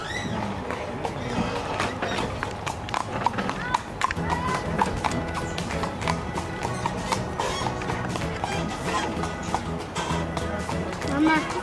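Steady clip-clop of horse hooves trotting throughout, mixed with people talking and a lively background; the rhythmic hoofbeats stay close and moderately loud.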